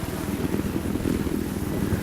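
A helicopter in the shooter game Battlefield 4 drones close and steady, a loud low rotor thrum with rhythmic blade chop throughout, no speech over it.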